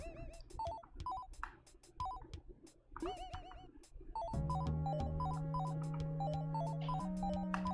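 A melodic phone ringtone from the video game Lost Call, bright repeating chimed notes with a sustained tone layered in partway through, clear and fairly loud over faint background music.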